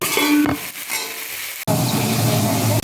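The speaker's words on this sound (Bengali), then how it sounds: "এর মধ্যে একটু হলুদ গুঁড়ো আর একটু জিরের গুঁড়ো দিয়ে সমস্তটাকে একটু নাড়াচাড়া করে ভাজা ভাজা করে" Vegetables fry in a pan with turmeric and cumin powder as they are stirred, producing a close, loud sizzle with scrapes and clinks of the spoon against the pan, then a steady hiss.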